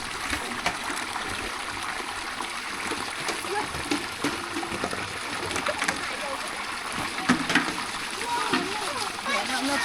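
Water is scooped and splashed at a stream or spring where drinking water is collected, with continuous rushing flow and intermittent louder splashes close by.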